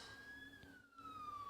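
A faint police-type siren, a steady descending wail far in the distance under low background noise.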